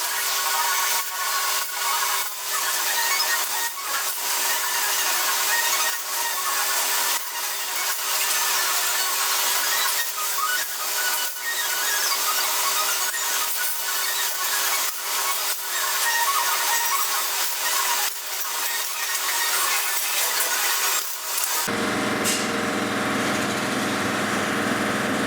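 A small bench drill bores a 2.3 mm hole for an M3 grub screw in a beam engine part, a steady high-pitched whine running continuously before stopping abruptly near the end.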